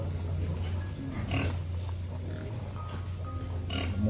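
Several pigs grunt and oink close by in a continuous low, rumbling chorus, with occasional sharper squeals rising over the steady grunting.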